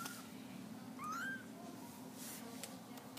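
A kitten gives a single short, rising meow near the start, fairly close over quiet room background, with no talking.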